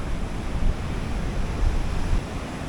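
Sea waves break on a beach in a steady, close, rushing roar mixed with wind buffeting the microphone.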